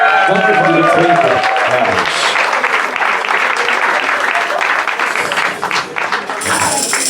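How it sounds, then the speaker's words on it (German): Audience at a Cologne carnival show applauding the young serving staff, dense sustained clapping from a large crowd, loud and steady, starting over a brief stretch of talk and fading slightly near the end. "Ich bitte an dieser Stelle mal um einen riesigen Applaus für unser junges und fleißiges Bedienungspersonal"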